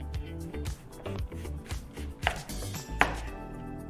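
A kitchen knife cuts through a tough vegetable on a board during vegan batch meal prep, giving a steady run of close, rhythmic chopping thuds with a couple of sharper, louder strikes near the end.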